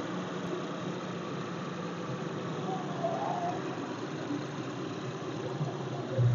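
A 2004 single-owner Maruti 800 petrol car engine idles with a steady, quiet, low hum and faint vibration, even and unbroken throughout, with a slight rise in rumble at the very end.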